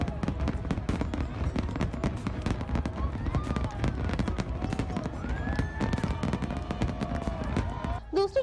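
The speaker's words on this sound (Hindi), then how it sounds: "पर आतिशबाजी का भी एहतमाम किया गया है" Fireworks at New Year celebrations in Karachi crackle and pop in dense, continuous bursts with sharp bangs and occasional whistling rockets, loud and sustained throughout.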